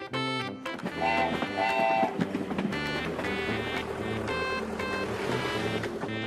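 A cartoonish train chugs along with bright musical toots and whistle tones over a busy, playful backing of jingly music.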